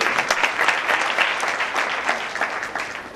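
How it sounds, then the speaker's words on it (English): An audience at a university chess club inauguration ceremony claps in a dense, steady burst of applause that lasts a few seconds, close and fairly loud, with no talking over it. "Can we have a big round of applause for her?"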